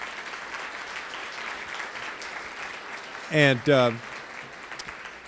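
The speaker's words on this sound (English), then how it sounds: "let's give our partners out there a big round of applause for their work" Audience applause at a U.S. Department of Housing and Urban Development gathering: a steady, even wash of clapping fills the whole stretch, with a short spoken word rising briefly over it near the end.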